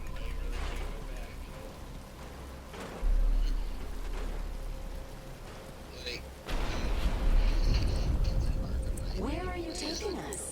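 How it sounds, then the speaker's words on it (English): Rain falls as a steady hiss in Batman Arkham Asylum, mixed with rumbling impacts and other game effects, while voices talk over it. "But it's starting to rain."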